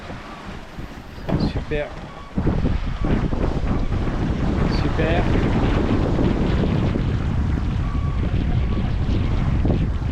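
Steady wind roars against the microphone aboard a sailboat on a calm sea during a transatlantic crossing, with water rushing beneath and a brief spoken voice near the start.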